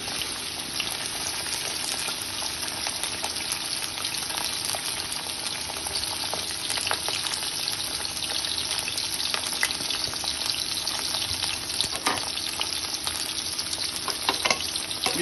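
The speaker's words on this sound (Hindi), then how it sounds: "घी गर्म हो गया। अब इसमें बिस्मिल्लाह से प्याज डाल देते हैं।" Onions sizzle in hot ghee for karela gosht, a dense, steady frying crackle that stays even throughout with occasional stirring clinks.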